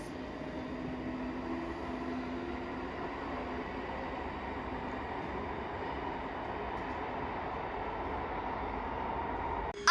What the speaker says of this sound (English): And off that train goes away into the distance.